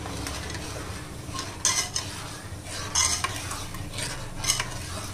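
Milk poured into a pan of suji and jaggery halwa and stirred, producing a soft, continuous bubbling sizzle with three louder bursts of scraping and utensil contact against the pan.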